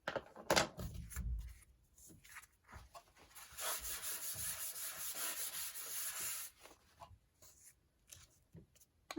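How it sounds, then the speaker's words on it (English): A journal card made of paper is burnished from behind with a hand tool, giving quiet, close rubbing strokes in short bursts and then a longer steady scrape before the strokes break up again. "I'm going to burnish that from behind."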